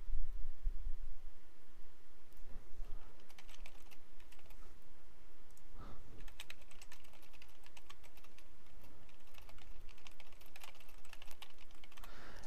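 Rapid, continuous tapping on a computer keyboard while composing a discussion message, close and clear with steady keystroke clicks and no talk.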